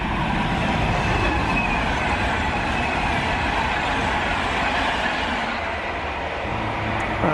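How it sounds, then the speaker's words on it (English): A train creeping into a station on a curving line toward Stafford, a loud, close, steady rumble of wheels and carriages rolling slowly past without talk. "there's our train creeping into the station."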